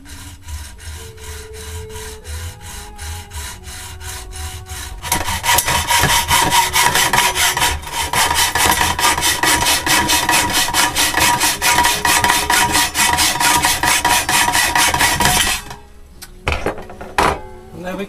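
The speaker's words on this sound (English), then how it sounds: "start sawing through the outer shell of the thermos flask" A hacksaw cuts through the metal outer shell of a thermos flask, with quick rhythmic rasping strokes close by that start after a few quiet seconds, run steadily for about ten seconds, and then stop with a few light clanks.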